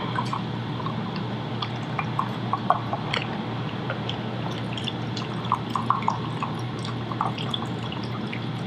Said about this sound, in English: so we're gonna pour this in here.